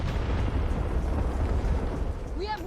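AI-generated explosions layered with environmental sounds, a low continuous rumbling roar of blasts and debris, fairly loud, ending with a brief rising whine.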